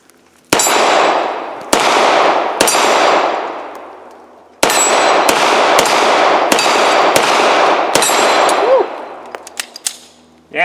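Tokarev TT-33 pistol fired outdoors at a target about 10 yards away, a string of loud, sharp shots with ringing decay, irregularly spaced with a pause midway, then a few fainter clicks and handling sounds at the end.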